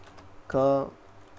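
A few quick keystrokes on a computer keyboard as a short word is typed, a brief close burst of clicks under faint room tone.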